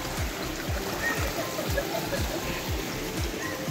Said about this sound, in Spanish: Pueden ver que por todos lados hay nacederos de agua.